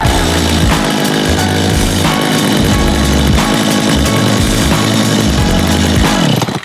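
A chainsaw engine runs loudly and continuously up close in the woods, its throbbing roar holding steady with slight revving throughout.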